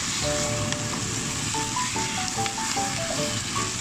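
Garlic chive flowers and liver stir-fry in a pan with a constant, close hissing sizzle and occasional stirring scrapes, while soft tonal music plays faintly underneath.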